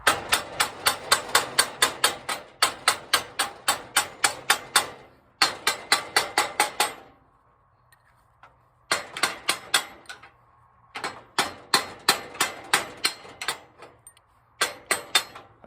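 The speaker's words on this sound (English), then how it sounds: "I just kind of knocked that burr off with that hammer." A hammer strikes metal in quick rapid runs of sharp ringing knocks, pausing briefly between volleys, while knocking a burr off a Powder River squeeze chute part during repair.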